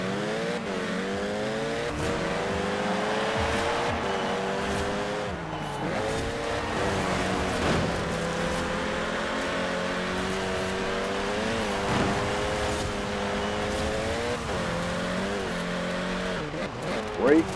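A race car in Forza Horizon 4 runs a spring race on road tires, its engine revving steadily with pitch swings through gear changes and corners. A voice talks quietly underneath.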